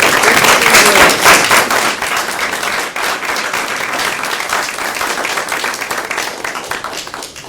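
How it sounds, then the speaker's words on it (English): A room at a Board of Selectmen quarterly meeting breaks into a sustained round of applause honoring Donna's 15 years, dense and loud at first, then easing slightly while the clapping continues steadily to the end. "I'd like for us to give you a warm round of applause for 15 years"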